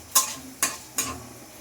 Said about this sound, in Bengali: পাঁচফোড়ন দিয়ে কিছু পরিমাণ চিচিঙ্গা দিলাম